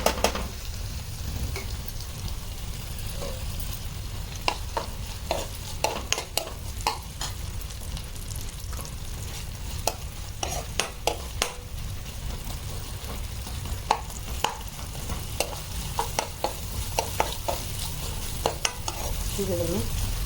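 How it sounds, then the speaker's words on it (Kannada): Chopped onion sautéing in a pan gives a continuous sizzle, broken by scraping and clicking from a utensil stirring at irregular intervals, close up. "ಇದನ್ನು ಬಾಡಿಸ್ಕೊಳ್ತಾ ಇದ್ದೀನಿ"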